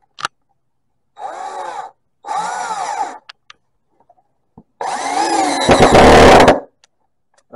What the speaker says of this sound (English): so now we're screwing the other screw in.